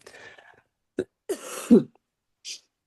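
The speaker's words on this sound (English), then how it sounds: "I hope you can cut out my coughing" A few short, sharp coughs sound close by in quiet surroundings, with a faint murmur of voice at the start and a small breathy burst at the end.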